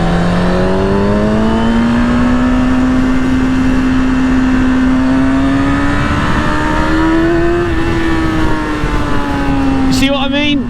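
A 2003-2004 Kawasaki ZX6R with its stock exhaust revs up in a low gear on a wet day, a loud, close, rising engine whine that climbs steadily for several seconds, then drops back as the throttle closes.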